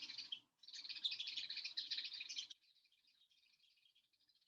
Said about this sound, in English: Let's notice the birds singing.